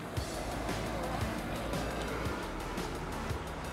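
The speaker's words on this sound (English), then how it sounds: "I can definitely hear a car now." A car passes along a road, a steady low rumble of tyres and engine heard from some distance, with no clear peak.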